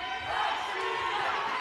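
An arena crowd cheers and murmurs steadily through a women's taekwondo semifinal at the London 2017 World Taekwondo Grand Prix, reacting to a push kick, a dense continuous roar with no distinct voice on top.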